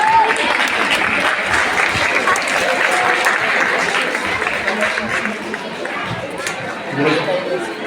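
Loud, dense applause from a school audience at an annual function and prize distribution ceremony, a steady wash of many clapping hands that holds for the whole stretch and eases slightly near the end, with crowd chatter mixed in.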